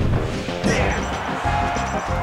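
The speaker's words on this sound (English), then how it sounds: "He likes those down smashes." Down smash attacks landing in Super Smash Bros. Melee during a tournament losers-finals match, Falco against Sheik: sharp smacking hits over dense crowd noise and game sound, steady and loud throughout.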